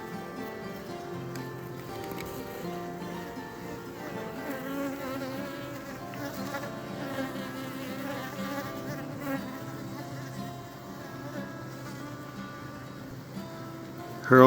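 Honeybees buzz steadily around a beehive, a dense continuous hum holding at close range for the whole stretch with no talk over it.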